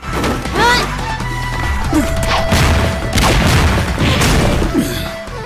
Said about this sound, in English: you're using your sand to smash up the ground underneath us for more ammo